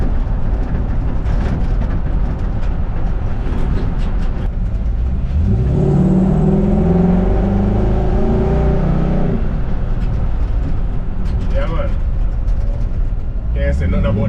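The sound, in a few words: Ford Mustang 5-liter V8 engine in 1960 Ford F100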